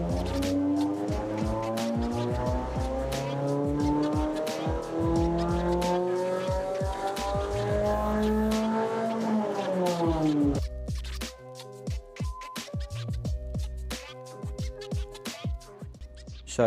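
Suzuki Swift Sport ZC31S engine with a Monster Sport ECU remap, revving on a dyno as its loud, close pitch climbs steadily for about ten seconds, then drops off into rougher, uneven burbling and pops.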